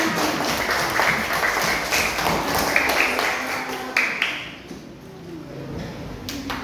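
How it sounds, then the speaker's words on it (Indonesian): An audience of children claps together at a religious gathering, a dense, continuous patter of hands that holds steady, then thins and fades toward the end. "Tepuk tangan buat kita semua."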